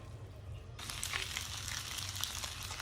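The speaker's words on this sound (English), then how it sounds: "Now crank up that heat and let's get these eggs cooking" Eggs frying in a hot pan, starting with a low hum before a steady bright sizzle and crackle begins abruptly and continues close-up and fairly quiet, with no talking.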